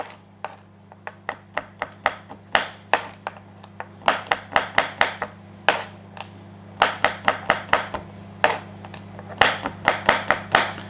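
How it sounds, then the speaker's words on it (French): A knife chops through a block of chocolate on a board, a quick run of sharp close strikes in uneven bursts over a steady low hum. "je termine de hacher mon chocolat."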